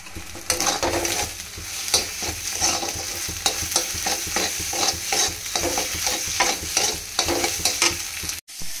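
Onions frying in a pan, a loud continuous sizzle with rapid, regular scraping and stirring strokes of a spoon against the pan, close by, ending in a brief cut-off, no voices.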